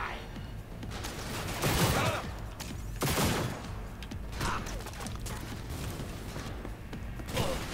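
Gunshots ring out in Cyberpunk 2077, with a few loud, sharp bursts spaced over several seconds against a busy mechanical game background.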